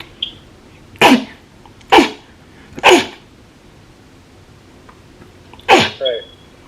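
Four loud, close sneezes from a person, evenly spaced about a second apart and then one more after a pause, each a sharp explosive burst standing alone against quiet room tone.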